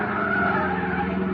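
A car skids as it swings back onto a road, a loud sustained tire squeal with engine roar, close and continuous for about a second and a half.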